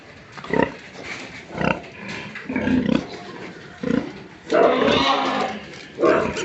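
Pigs in a backyard piggery grunt and squeal in repeated bursts, close and fairly loud, with a person's voice talking faintly now and then.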